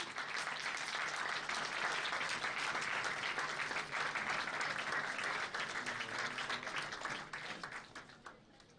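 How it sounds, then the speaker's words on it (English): An audience at an international management conference gives a sustained round of applause, loud and dense for most of its length before it thins and fades out at the end. "A bigger round of applause, please,"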